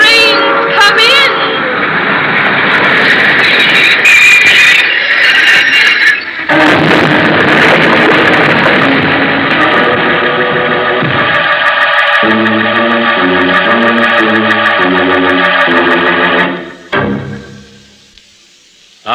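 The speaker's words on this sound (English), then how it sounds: "See? The train's come in." A train pulls in within a radio drama, a long loud metallic squeal of brakes followed by a steady rumbling engine idle with a pulsing mechanical beat that cuts off near the end.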